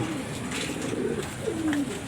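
A pigeon coos softly, a low throaty warble rolling for a couple of seconds at close range.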